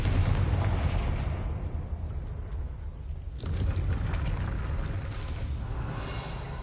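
Confringo blasting curse from Hogwarts Legacy going off as a loud, rumbling fiery explosion, with a second burst around midway and a sustained roar throughout.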